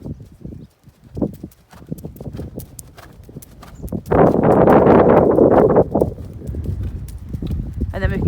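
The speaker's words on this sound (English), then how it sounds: "So now we can go from walk through into canter." A ridden horse moves from walk into canter, its hooves clip-clopping in a quickening rhythm close by, with a burst of wind noise midway; a person talks over it.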